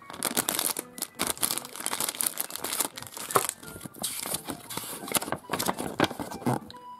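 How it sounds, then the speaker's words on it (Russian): Crinkly plastic rustling and tearing of a toy surprise packet being opened, busy and continuous for several seconds, close up, with a few sharper crackles. "Откроем следующий пакетик."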